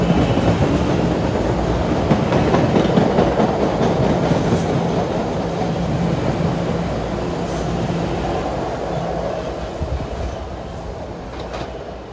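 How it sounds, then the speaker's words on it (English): An Oak Grove bound subway train arrives through a work zone, its steady loud rumble and wheel clatter continuous and close, fading slightly toward the end. "Here's another Oak Grove bound train tapping his AA2 as he comes in through the work zone."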